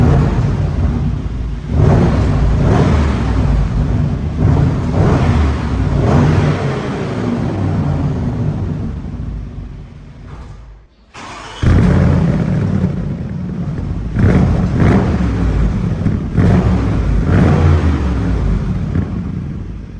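Bentley Bentayga Speed SUV with a W12 engine accelerating hard, a loud, steady roar rising in two long surges with a brief drop in between, close and alone without voices.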